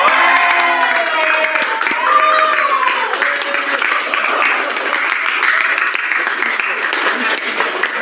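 A classroom of students claps together in a lively, sustained burst of applause that gradually thins out, with a teacher's voice speaking over the clapping.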